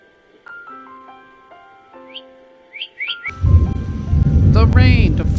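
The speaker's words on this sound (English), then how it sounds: "The rain to fall" Rain begins falling hard with deep thunder rumbling beneath it, rising to a loud, dense roar after a few seconds of quiet whistling bird calls.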